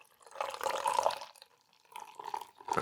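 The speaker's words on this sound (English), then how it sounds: "pouring it into my Titanic glass today" An imperial stout with pistachio cookie dough ice cream flavouring is poured from a can into a tall glass, giving two bursts of gurgling, splashing liquid at close range with a brief pause between them, and no talking.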